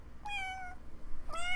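A cat meows twice, two clear drawn-out calls separated by a short pause, fairly close against a quiet background.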